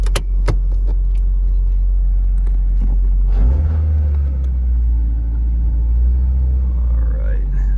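A 1999 Nissan Silvia S15 Spec S fires up close by: a few clicks, then the engine catches and settles into a loud, steady low rumbling idle.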